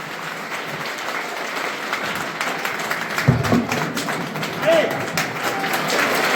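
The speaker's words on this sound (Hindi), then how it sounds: "शानदार तालियां सर के लिए" Applause at a school retirement farewell ceremony for a teacher in Rajasthan, a steady wash of clapping running throughout, with a voice briefly heard partway through.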